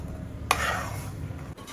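A spoon stirs a loosened, wet coconut mixture for Palakkad-style pappada puli in a pot. There is one quick scraping sweep, then soft bubbling and sloshing, close by, with no voices.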